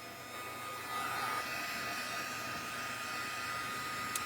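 A heat tool blows a steady, loud stream of air to dry ink from behind the work, a continuous broadband whoosh that holds even throughout with no talking.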